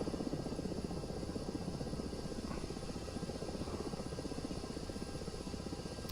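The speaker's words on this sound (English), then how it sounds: "I've never even seen these helicopters that they're talking about." A military helicopter flies overhead in a mission of a flight combat video game, giving a steady, loud rotor drone with a rapid chopping pulse that holds unchanged from start to finish without any talk.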